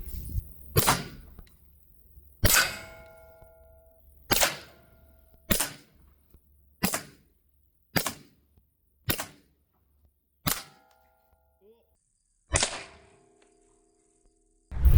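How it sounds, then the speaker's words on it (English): Nine sharp gunshots fire one after another at a Caldwell Flash Bang reactive target outdoors, spaced one to two seconds apart, each a loud crack followed by a short ringing decay. "out of the 20 rounds that I've fired so far, I've gotten 4 hits on the indicator"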